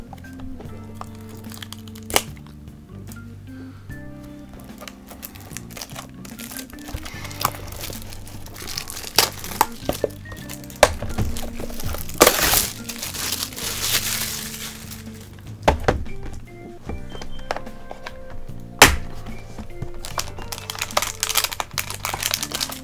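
A Yu-Gi-Oh Golden Box is unpacked and its card packs pulled out: crinkling plastic wrap, scattered cardboard taps and rustles, close and irregular, building in busyness, with no talk.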